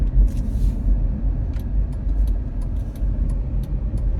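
Car driving along the road after a long ride, steady low road rumble and engine drone from inside the cabin with a few faint clicks and rattles, no talking.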